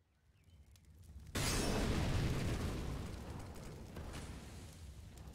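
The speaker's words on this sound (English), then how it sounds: "throw the incendiary to the bottom of mid to deter a counter push" An incendiary grenade in Counter-Strike on the Inferno map bursts with a sudden loud whoosh after a quiet start, then settles into a steady roaring, crackling burn that slowly fades but keeps going.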